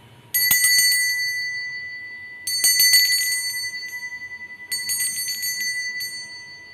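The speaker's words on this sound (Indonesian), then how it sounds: "kita akan mulai melanjutkan dengan tanda lonceng berbunyi." A small bright bell rings three times with clear pauses, each strike ringing out and slowly fading, close and loud.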